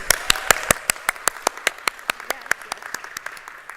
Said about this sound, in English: a huge round of applause for our Next Gen kiddos